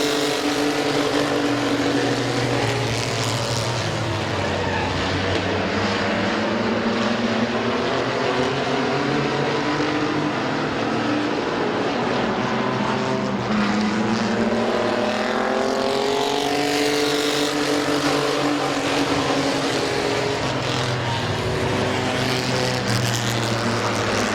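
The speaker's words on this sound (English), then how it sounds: "Final lap for the mini trucks." Mini trucks race at Midvale Speedway, a continuous loud roar of several engines rising and falling in pitch as they lap, with crowd and track noise underneath.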